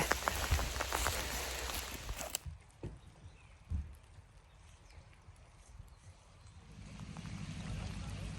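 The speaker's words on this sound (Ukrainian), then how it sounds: "Весняний дощик." Spring rain falls, a dense close patter of drops at first that abruptly thins to a quieter, sparser drip with occasional louder knocks, then the wash of rain swells again toward the end.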